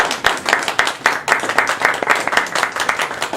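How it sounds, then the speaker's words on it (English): An audience applauds after a talk, dense and steady clapping that goes on without a break, close and fairly loud. "We clap for you now."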